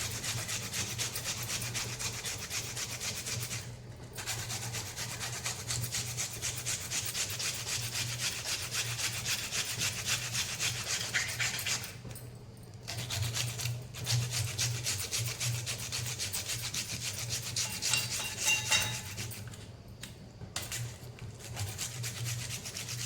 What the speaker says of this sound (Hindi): सबसे पहले यहाँ पे हम प्याज को अच्छे से घिस लेते हैं उसका रस निकालने के लिए